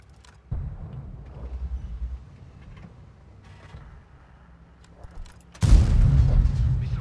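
STRV S1 tank gun firing in World of Tanks: a low booming shot early on, a quieter stretch of rumbling engine and mechanical creaks, then a second loud, heavy blast near the end that lingers.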